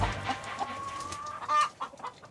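Chickens at a busy family home, part of a backyard flock of eight, cluck in short bursts with one sustained call midway, fairly close and fairly quiet.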